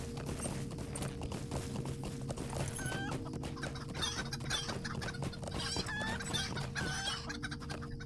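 Chickens clucking in LOTRO, a busy flock with repeated clucks and a rooster crow, steady close-by barnyard chatter with hoof clip-clops, no talk.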